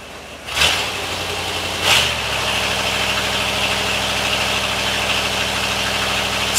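A Ford 460 EFI V8 idles roughly at close range, loud and continuous with a knocking vibration, and two brief surges or clunks near the start before the idle settles.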